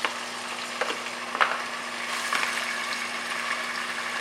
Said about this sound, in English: the oil seems to be pretty hot now, so I'll go ahead and add the pancetta